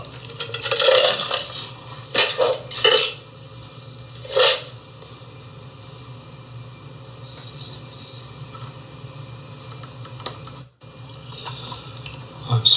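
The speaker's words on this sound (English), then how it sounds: "Now, sprinkle in a small portion of pellets." Wood pellets are sprinkled into a pellet stove in several short bursts of hard, rattling clatter, each a second or so long. Quieter stretches of low hum and a few light clicks fall between them.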